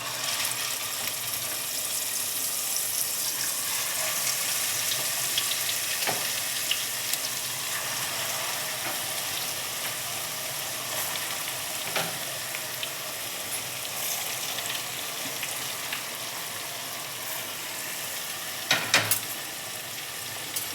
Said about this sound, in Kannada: ಮಟನ್ ಸ್ವಲ್ಪ ಎಣ್ಣೆಲೇ ಫ್ರೈ ಆಗ್ತಾಯಿದೆ